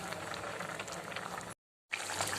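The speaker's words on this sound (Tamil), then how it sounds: "சிம்மில் வச்சு மூடி வச்சிடலாம்." Egg curry simmers covered on low heat, a soft, steady bubbling close by, briefly cut to silence before resuming.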